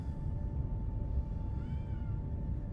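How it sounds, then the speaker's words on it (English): A cat meows in the space strategy video game Star Trek Voyager: Across the Unknown, a faint, short wavering call rising over a steady low rumble and hum of ambient ship noise. "Hello again, Kitty."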